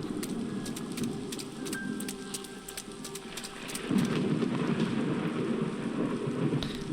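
Steady heavy rain with rumbling thunder in the horror game The Seance of Blake Manor, a dense constant downpour with a louder thunder swell midway and sharp drip accents, no talk.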